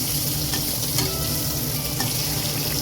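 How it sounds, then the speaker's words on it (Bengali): Pointed gourd (potol) frying in oil in a pan makes a dense, continuous sizzle close by. A few faint clicks of stirring sit on top, and nobody speaks. "কতটা ভাজা হয়েছে চলো দেখো পটল পটলটা প্রায় ভাজা হয়েই এসছে"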